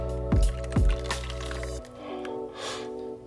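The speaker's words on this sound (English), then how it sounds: "we're gonna pour it over the top, guys" A mixture is poured over a cheeseburger pie in a home kitchen, with two thick wet squishing plops near the start followed by softer liquid drips and a low background hum.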